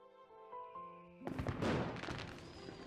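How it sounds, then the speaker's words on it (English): Fireworks from a nearby park in a story game scene burst loudly after soft musical tones, a dense crackling, booming barrage that swells and then lingers. "the deafeningly loud fireworks from a nearby park drown out the rest of Artem's sentence"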